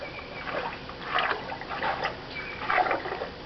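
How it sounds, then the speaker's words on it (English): Dirty water flowing out of the end of a pool deck drain, a continuous trickling and splashing with gentle surges, moderately loud and without talk. "you can see all the dirty water flowing out of the end of the deck drain"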